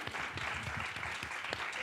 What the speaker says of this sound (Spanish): Un aplauso para ella, ¿no?